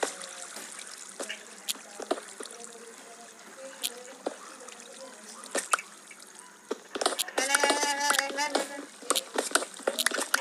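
Trickling, splashing water as a player moves through water in Minecraft, with scattered drips and sloshes that grow busier toward the end, heard under people talking.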